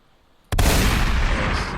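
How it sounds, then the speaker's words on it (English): A single sharp gunshot-like blast erupts abruptly after a short quiet lead-in, loud and close, with a long noisy decay that fills the rest of the moment. "That's a gunshot."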